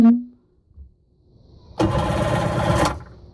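A 1995 Sea-Doo SP with the 587 engine cranks over after a starter replacement: a brief click and a short pause, then about a second of loud, rapid starter churning that cuts off abruptly.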